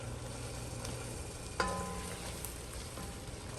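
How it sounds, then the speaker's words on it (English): Chopped onions and tomato cooking in a pan for a budget keto soup, giving a steady soft sizzle with a brief clink of a utensil partway through, close and alone without talk. "We're just going to let the onions cook until they become as soft as you want them."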